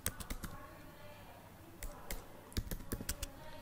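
Quiet bursts of keystrokes on a computer keyboard as a name is typed into a form, clustered clicks at the start and a quicker run toward the end over a low background hum.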